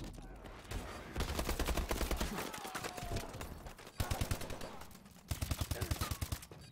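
The Obsidian Bal gun firing in a video game: several rapid bursts of sharp, evenly spaced shots, each run cut off by short pauses, moderately loud against a quieter background.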